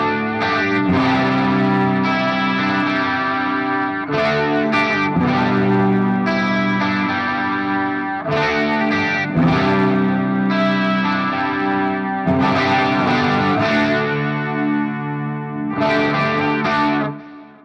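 Electric guitar through a Fractal FM9 with light distortion and chorus, playing a sustained chordal pre-chorus part in strummed phrases with brief gaps, loud, shimmering and full, with no voices.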